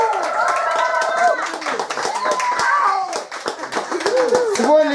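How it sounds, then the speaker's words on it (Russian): An audience at a rumba guaguancó dance competition awards ceremony gives a burst of applause, with clapping close by and mixed with loud speech and voices. "Аплодисменты!"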